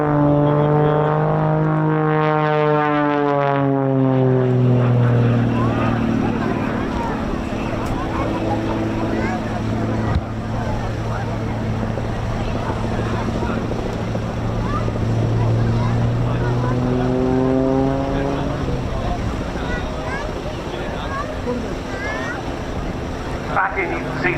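A propeller aerobatic plane hangs on its prop at the RAF Cosford air show, the engine and propeller drone rising and falling in pitch in long sweeping harmonic waves, loud and continuous, with a quieter rough stretch in the middle.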